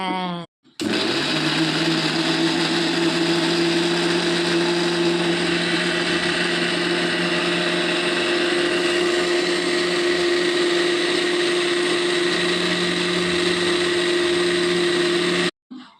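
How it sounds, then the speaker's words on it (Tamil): A kitchen mixer grinder churns chutney with salt added, running as a loud, steady whir for about fifteen seconds after starting abruptly, then cutting off. "சட்னி அரைக்க கிளம்பிட்டாங்க"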